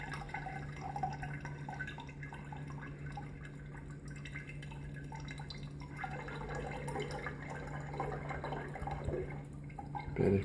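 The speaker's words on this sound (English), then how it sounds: "there's still a lot of sediment, so we're straining it" Faint, soft trickling and dripping of home-brewed beer being strained to remove sediment, a low steady hum underneath and irregular small splashes throughout.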